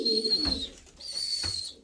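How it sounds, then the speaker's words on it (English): A young, tame white pigeon cooing up close, two soft, low coos with a short pause between them, heard alone. "Going to have like a really, really tame white pigeon"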